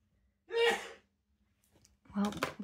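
Someone sneezes once, close and sharp, then after a pause a second gasping, sneeze-like burst follows in an otherwise quiet room.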